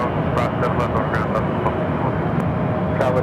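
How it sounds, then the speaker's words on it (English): An Airbus A321 jet airliner rumbles steadily at Phoenix airport, a broad engine roar with a faint tonal whine, while a person talks over it throughout. "it's an A321"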